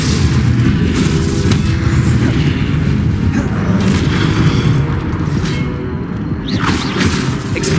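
A Confringo explosion spell in Hogwarts Legacy, a loud, sustained deep booming rumble with whooshing bursts layered on top that continues without a break.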